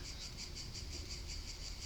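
Crickets chirp in a horror video game set on a ghost train, a quiet, even stream of fast, pulsing trills with no voices.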